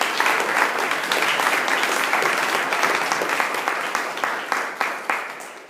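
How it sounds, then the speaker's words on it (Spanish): Warm, sustained applause from a church congregation after a sermon, many hands clapping together at close range and slowly thinning toward the end, with no talk over it. "Un aplauso para la obra de Jesucristo."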